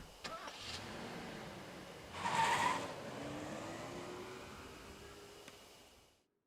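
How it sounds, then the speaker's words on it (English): A car pulls away in the horror game Death Mark, its engine a steady low drone that rises in pitch as it drives off, with a brief louder burst partway through before the sound fades out. "We hurry all the way out and get in the car."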